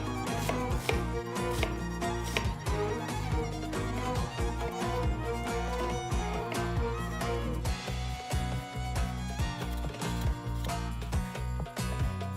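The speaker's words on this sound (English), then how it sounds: "So we'll start with our prep, chop the onions and tomatoes," Onions and tomatoes, along with garlic and ginger, being chopped on a board as prep for a lamb Chettinad sauce, giving a steady run of close knife strikes for about twelve seconds with no talking.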